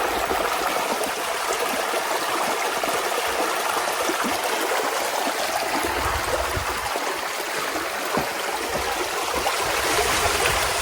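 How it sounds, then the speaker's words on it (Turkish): Water rushing steadily along a canyon stream in an Oman wadi, a continuous close, full-bodied flow with bright splashing and trickling texture and no voices. "Şu suyun sesini dinler misiniz?"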